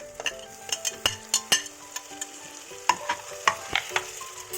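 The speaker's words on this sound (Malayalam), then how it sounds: "മസാലയൊക്കെ നന്നായിട്ട് വഴറ്റിയെടുക്കണം." Masala, onions and tomato for chicken curry sauté in a pan, with a soft sizzle under repeated close clinks and scrapes of a spoon stirring against the metal.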